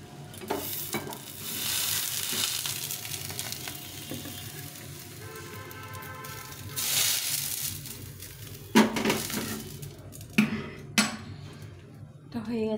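Breakfast food frying in a pan while being pressed down slowly, with steady sizzling broken by clinks and scrapes of utensils against the pan; a voice talks over parts of it.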